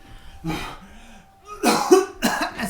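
A few harsh, raspy coughs of someone coughing up blood in close succession, loud and near, with brief gaps and a short strained vocal sound between them.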